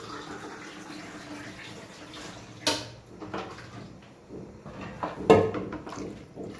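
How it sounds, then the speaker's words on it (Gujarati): Water poured into a pot of thick chole gravy, a faint splash and pouring under low kitchen background, with a couple of sharper knocks and clatters. "હજી થોડું પાણી એડ કરીએ"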